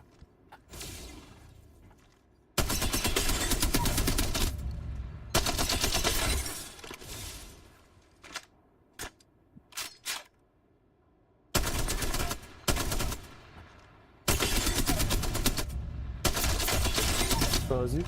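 Long bursts of automatic gunfire from the shooter game Apex Legends come in loud sustained sprays separated by quieter gaps with a few single shots and mechanical clicks.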